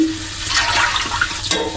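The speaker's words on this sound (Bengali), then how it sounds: "জল দিয়ে দিচ্ছি।" Water poured into a frying pan of already-fried ingredients for a Bengali dish, a short rushing hiss and splash with a sharper burst near the end.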